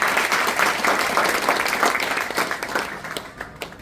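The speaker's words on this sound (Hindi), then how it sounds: "जोरदार तालियां" Sustained audience applause in a hall, dense and steady clapping that fades slightly toward the end, with no voices over it.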